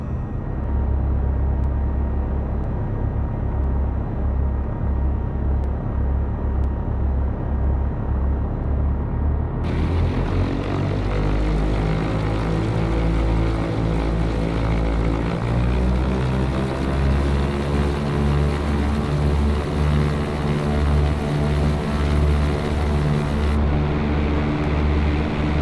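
Cessna propeller plane in X-Plane 11 departing runway 7 at Wyoming Valley: loud, continuous engine drone and propeller roar that rises in pitch and intensity as power comes up for takeoff, with no voices.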